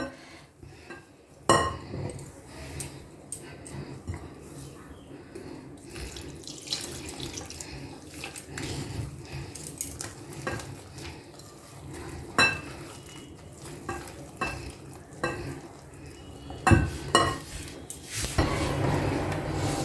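Patisapta batter being mixed in a bowl with milk powder and lukewarm water, heard as running water, watery stirring and clinks of a spoon against the bowl, with occasional louder knocks.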